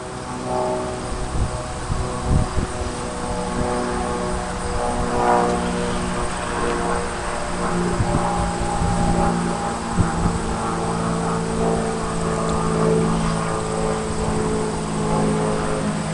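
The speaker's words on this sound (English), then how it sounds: "That's the airplane." A propeller airplane passes overhead outdoors, its droning engine hum steady and fairly loud for the whole stretch, with faint background noise and no one speaking.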